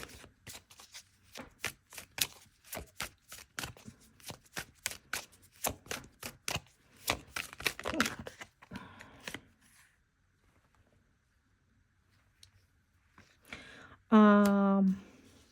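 A deck of tarot cards is shuffled in a long run of rapid, crisp riffling clicks lasting about eight seconds, then a softer rustle, near and fairly loud, followed by quiet and a brief voice near the end.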